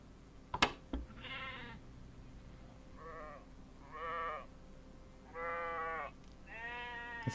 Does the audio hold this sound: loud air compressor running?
no